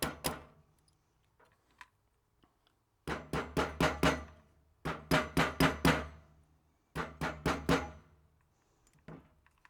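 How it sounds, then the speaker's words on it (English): Three quick bursts of sharp soft-hammer taps driving in a rifle handguard, four or five blows each, separated by short pauses in a quiet room. "Just use a soft hammer, tighten away, just drive it in."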